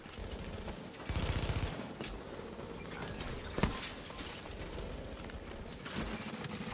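Gunfire in The Division video game rattles continuously as dense automatic bursts and scattered shots, with one sharper crack midway, all fairly distant and steady beneath the game's ambient roar.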